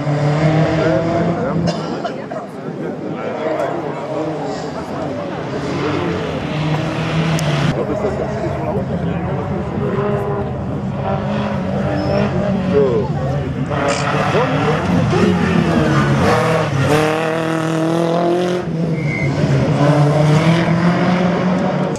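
A group A rally car revving and pulling away at the start of a slalom run in Saint-Lô, its engine roaring loudly and continuously with rising, shifting tones beneath an announcer's talk.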